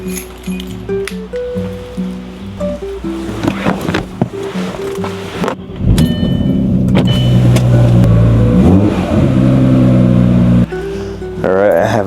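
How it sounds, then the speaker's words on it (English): A project car's engine runs as the vehicle backs up, a loud, steady motor rumble that swells midway and stays strong, with a faint clink or two over it. "my snow shovel is in the attic, so I gotta back up my project car to get to it"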